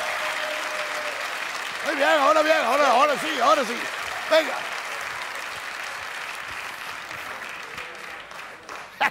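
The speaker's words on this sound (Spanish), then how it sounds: "¡Aplauso!" Audience at a live comedy or variety show clapping: steady crowd applause that swells while someone speaks loudly over it, then continues more evenly and tapers toward the end.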